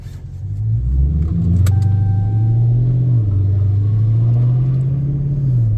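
Dodge Challenger engine heard from inside the car while driving, a loud, steady low rumble that rises briefly as it revs, with a short clink partway through.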